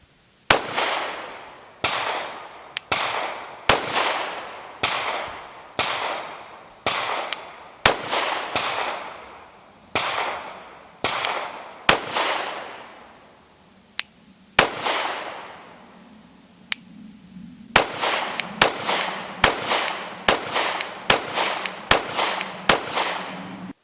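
Gunshots from a Kimber R7 Mako Tactical pistol, about twenty sharp, loud reports fired in a steady, even cadence with brief echoing decays between them, the pace quickening near the end.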